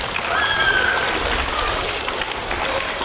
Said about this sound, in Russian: Давайте похлопаем друг другу с вами вместе.